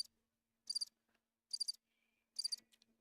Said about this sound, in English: Definitely want to play this when I start talking Transformers